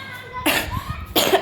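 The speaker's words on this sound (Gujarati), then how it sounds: "ઉધરસ થઈ ગઈ છે, શરદી થઈ ગઈ છે" A person with a cough and cold coughs twice, close and fairly loud, in two short harsh bursts separated by a brief pause.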